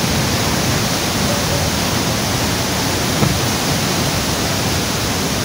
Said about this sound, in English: See the waterfall.